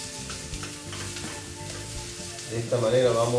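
A vegetarian filling for pastel de choclo sizzles and fries steadily in a pan, the crackle growing louder near the end, while a person speaks briefly over it.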